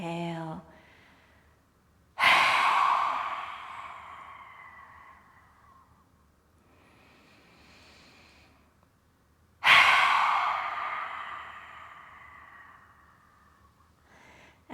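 Slow, deep yoga breathing, with two long, loud exhales that each fade gradually, separated by quieter inhales, close to the microphone; a voice is heard briefly at the start.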